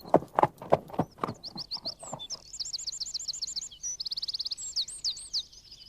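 Arabian horses' hooves clip-clop in a quick run of about eight sharp strikes over the first two seconds, then fade as birds chirp and trill in rapid bursts for the rest of the clip.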